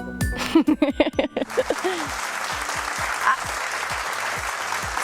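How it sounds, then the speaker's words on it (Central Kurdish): A studio audience claps on a television quiz show, a steady wash of applause that swells after a brief burst of voice and music at the start. "دەی باش دەی بینەرەکان چەپڵە."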